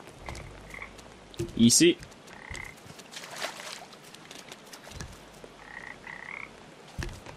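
Frogs croak in the video game Papo & Yo, with short creature-like calls and game sound effects scattered across the clip, while a player briefly speaks over them.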